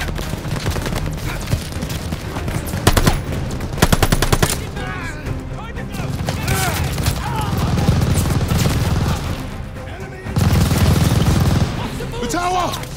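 Loud, sustained machine gun fire in the video game Call of Duty Vanguard, long rattling bursts with heavier booms mixed in, shouting voices over the battle.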